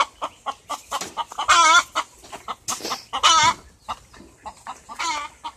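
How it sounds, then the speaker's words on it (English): Chickens in a coop cluck in repeated bursts close to the microphone, rising into louder squawking calls that stand alone with no talk. "I swear to y'all, I got some crazy birds in here"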